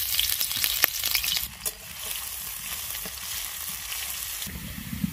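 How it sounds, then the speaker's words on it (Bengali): Chopped onion frying in hot oil in a home kitchen pan, a steady close crackling sizzle throughout, with a brief dip in intensity before settling into continuous frying. "পেঁয়াজ কুচি দিয়ে দিলাম"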